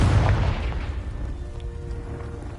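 A Confringo spell blast in Hogwarts Legacy, played on PS5, lands as a loud, close, low boom that bursts at once and then fades into a rumbling decay.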